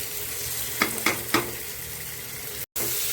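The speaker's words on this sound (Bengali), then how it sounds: "এখন ভেজে রাখা মাশরুমটা দিয়ে দেব।" Fried mushrooms go into a spice paste in a pan. A low, constant sizzle carries three quick scraping knocks of a spoon stirring, then a brief dropout before the frying continues.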